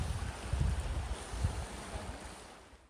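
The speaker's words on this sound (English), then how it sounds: "Very soothing Zen waterfall." A waterfall on the Pacific Crest Trail gives a steady, soft rushing wash of falling water, mixed with some low wind buffeting that fades slightly toward the end.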